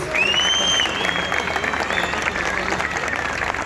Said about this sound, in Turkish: Samsun için kocaman bir alkış gönderiyoruz.